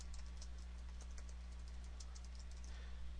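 Quiet keystrokes on a computer keyboard tap in a faint, irregular stream over a steady low hum as an item description is typed.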